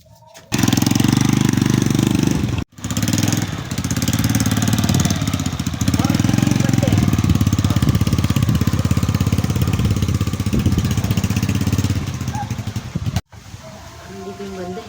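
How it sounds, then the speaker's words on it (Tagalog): A motorcycle engine runs loud and close, a harsh, rapid chugging drone that keeps up almost without a break. It cuts out briefly twice, and voices can be heard faintly beneath it. "Sige, kunin mo ang motor mo."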